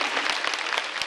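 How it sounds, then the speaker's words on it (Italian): A small backstage audience claps in a short, uneven burst, individual hand claps distinct and close within the brief patter. "Facciamo un applauso"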